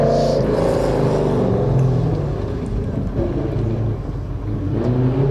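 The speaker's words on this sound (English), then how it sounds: "in the GT40. You will hear it coming." A Ford GT40 race car climbs a hillclimb course, its engine revving hard and loud with rising, shifting tones and a rumbling pass-by character, no talk over it.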